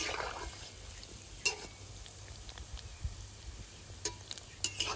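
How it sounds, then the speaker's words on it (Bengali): Palm fritters made from ripe palm fruit being turned in hot oil, with a soft continuous bubbling sizzle broken by a few sharp scraping clicks of a utensil, close and fairly quiet. "এবার পিঠেগুলো নাড়াচাড়া দিয়ে দেবো।"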